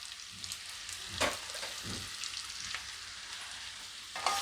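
Potato pieces tossed in hot oil with cumin, coriander-cumin powder and garam masala for garlic potatoes, a steady close sizzle with scraping spoon strokes against the pan.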